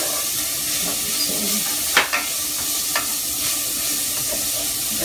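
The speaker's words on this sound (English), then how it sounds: "So we're just going to saute all of this together." Vegetables with garlic and shredded carrots sauté in a pan for a corn pie, a steady close sizzle with a couple of sharp spoon-scrape clacks near the middle.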